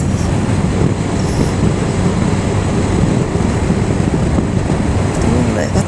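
Finland's northernmost train passes nearby in windy weather, a steady broadband rumble holding loud and even throughout with wind noise over it.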